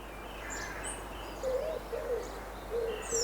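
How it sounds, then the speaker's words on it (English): Birdsong drifts over a quiet outdoor hush, with a few soft hooting calls and scattered higher chirps repeating at moderate distance. "perhaps some birdsong"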